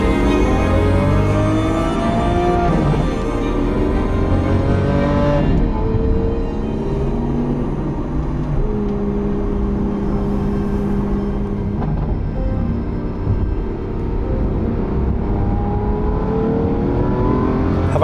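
The exhaust of a Lamborghini 6.5-liter V12 revs and roars loudly up close, then settles into a sustained, droning engine note that rises and eases, with no talking.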